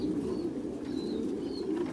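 Pigeons kept captive in a farm enclosure coo softly in low, throaty murmurs over a dull background hum.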